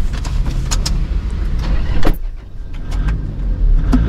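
Diesel Toyota Innova engine starting up and settling into a loud, steady idle close by, with a brief surge partway through and no talking.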